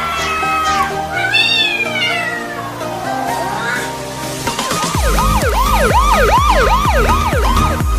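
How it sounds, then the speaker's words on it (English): A black cat meows repeatedly in harmonic, rising-and-falling cries over a steady background, then a loud wailing siren of an emergency vehicle sweeps up and down in rapid cycles through the second half. "the evil black cat is back"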